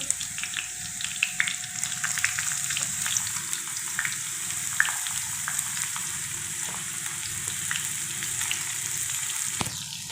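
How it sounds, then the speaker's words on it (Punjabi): Ginger sizzles and fries in a pan in a home kitchen, a steady close crackle with scattered pops and small clinks throughout, no voices heard. "ਅਦਰਕ ਨੂੰ ਥੋੜਾ ਜਿਹਾ ਆਪਾਂ ਅਦਰਕ ਨੂੰ ਥੋੜਾ ਜਿਹਾ ਪਕਾਉਣ ਲਾਂਗੇ ਜੀ"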